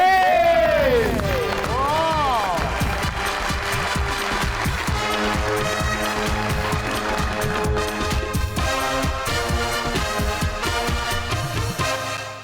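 A studio audience applauds and cheers as comedian Mubeen Gabol is welcomed onto a TV show stage, with loud clapping, whoops and lively music playing throughout, fading slightly at the very end.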